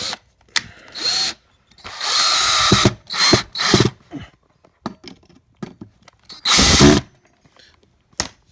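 Power drill driving screws on a car under-dash creeper with a self-locking hinge, in several loud, close whirring bursts of varying length separated by silence, one screw stripping.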